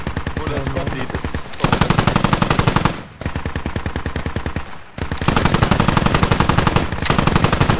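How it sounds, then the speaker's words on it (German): Sustained bursts of rapid machine-gun fire in a squad-based combat video game, loud and close, in three long volleys separated by brief pauses. "Wird direkt beschossen"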